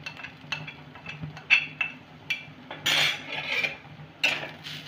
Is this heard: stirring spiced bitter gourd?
yes